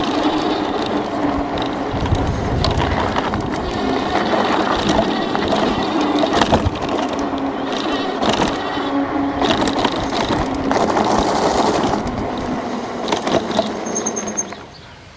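A Tomofree MK100 electric scooter rattles and clatters over bumpy ground, giving a loud, continuous, rough jostling noise with irregular knocks and no voices.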